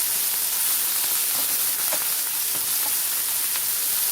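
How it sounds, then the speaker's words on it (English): A frozen vegetable blend sautéing in a tablespoon of cooking oil for Philly cheesesteak, a constant soft sizzle and hiss with a few faint pops and crackles, heard alone. "just saute this in a tablespoon of cooking oil"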